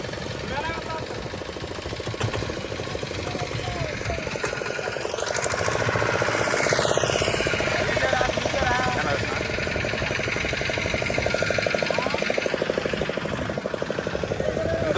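A boat engine runs steadily at sea, a loud rapid chugging throb that continues without a break, with a faint voice over it.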